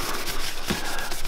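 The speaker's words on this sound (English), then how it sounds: "with the clean rag, we're just going to buff" Cotton rag rubbing a melamine-finished pen turning on a lathe, a close, brisk scrubbing friction with quick repeated strokes, no speech.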